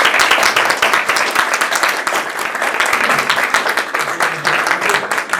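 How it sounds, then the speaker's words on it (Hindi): Sustained, dense applause from an audience at a club felicitation ceremony, loud and close, with many hands clapping steadily throughout and no break. "तालियां रुकनी नहीं चाहिए।"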